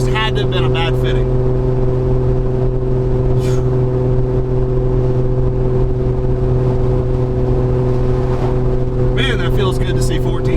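Inside a street-tuned turbocharged car running steady boost, the engine drones loud and constant with a strong steady tone, while someone talks briefly at the start and again near the end.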